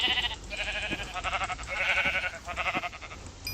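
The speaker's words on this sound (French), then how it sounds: "Viens là le mouton." A Minecraft sheep bleats repeatedly in quick wavering calls, loud and close, several bleats in a row with short pauses between them.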